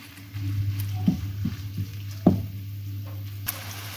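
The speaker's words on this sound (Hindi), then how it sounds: "जैसे ही ऑयल गर्म हो जाए तो इसके अंदर ऐड कर देंगे चिकन का कीमा।" Chicken mince dropped into hot cooking oil in a frying pan gives a soft steady sizzle, broken by a few light knocks and scrapes as the meat is spread out, close and fairly quiet.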